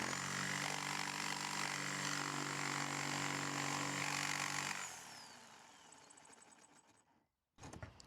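A jigsaw fitted with a fine-tooth blade cuts through thin metal sheet for a campervan floor, droning loud and steady for about five seconds, then easing down and tailing off before a brief final burst.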